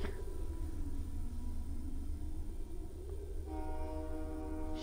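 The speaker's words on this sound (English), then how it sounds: "Why is he blowing that damn whistle? all the way down the track." In the Xenoverse 2 video game, a train horn blows as the train runs down the track: a sustained tonal blast over steady rumbling rail noise, with a second, stronger horn note near the end and no voices.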